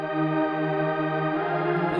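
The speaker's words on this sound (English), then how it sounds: "We're going to throw this in a synth that has a granular engine." A sustained, shimmering tone from the granular engine of the Pigments synth, with dense harmonic layers and a steady low drone, holding continuously for a couple of seconds.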